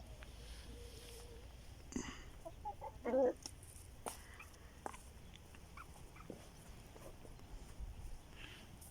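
Chickens on a farm coop cluck in short, scattered bursts, with a louder squawk near the middle, over a steady low rural background; no talking.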